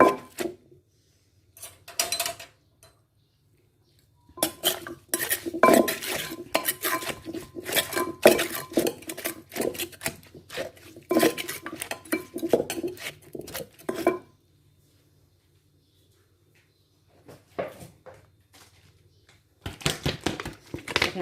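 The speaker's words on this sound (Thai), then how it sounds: "มาตำให้น้ำมะเขือเทศกับน้ำมะนาวออกก่อนนะคะ" Tomatoes and lime pounded in a mortar for a raw shrimp salad: bursts of rhythmic thumping and clattering pestle strikes, close and fairly loud, separated by silent pauses, with no speech.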